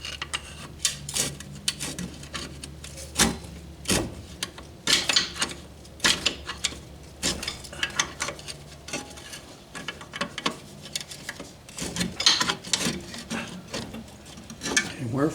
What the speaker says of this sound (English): Now let me get a pry bar and we'll stick it down in there and separate that.